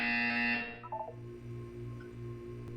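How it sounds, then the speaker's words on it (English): Portal 2 test buzzer, a single harsh electronic tone sounding for under a second, then cutting off into a faint low hum with brief tonal blips, with no speech over it. "You will hear a buzzer."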